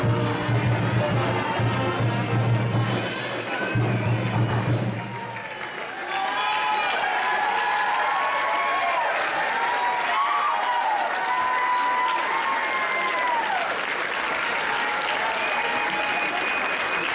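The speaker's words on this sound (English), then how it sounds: "stand up, everybody, round of applause for 71, 72" Sustained applause and cheering from a crowd at a Carson High School Hall of Fame ceremony, steady and dense for the full length, with an amplified voice speaking over the start before the clapping carries on alone.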